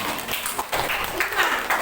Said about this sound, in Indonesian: Ya, beri tepuk tangan untuk kelompok 5.